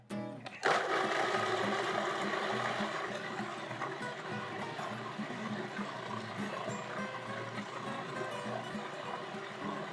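A blender whirs a smooth chickpea blondie batter seasoned with cinnamon, starting with a sharp spin-up and then holding a loud, steady, dense motor roar for the full stretch, with no voices.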